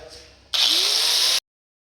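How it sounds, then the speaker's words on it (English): A power grinder bites into the edge of a 1948 Chevy truck body panel, a loud steady high-pitched whine that starts abruptly, runs for under a second and cuts off. "All right, grind that edge up."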